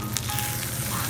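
Horned turban shell and sea urchin rice sizzling in a hot dish, a dense, continuous crackle and hiss close up with no pauses, loud and steady throughout.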